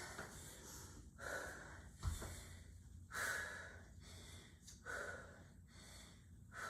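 During a miniband strength and HIIT workout, a person breathes heavily with repeated gasping, snorting breaths in an uneven rhythm, close and fairly quiet, with no talking.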